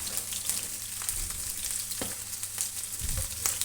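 Onion and green capsicum are stir-fried over a high flame, giving a constant close sizzle with scraping stirs and a few sharper clatters of the utensil against the pan; no voices are heard.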